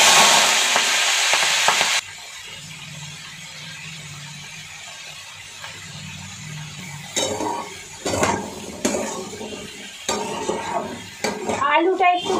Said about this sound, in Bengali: এটা এবারে ভাজবো কালো জিরে ফোড়ন দিয়ে